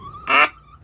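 A duck fighting a chicken gives a single short, loud quack-like squawk that sits close and alone over faint background noise, with a thin steady tone before and after it.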